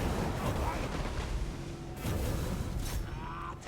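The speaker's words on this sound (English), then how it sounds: "without that arcing shot, it's just like the warp lightning cannon messes up so much" Warp lightning cannon fire from Total War: Warhammer with Skaven forces: rolling booms and crackling blasts churn through dense, loud battle noise for several seconds, with faint voices mixed in.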